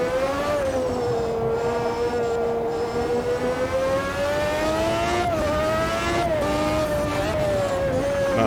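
A V12 race car engine in Automobilista 2 screams at sustained high revs, pitch climbing steadily with brief dips at gear changes, loud and continuous with no talking.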